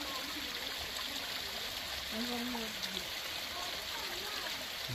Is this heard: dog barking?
no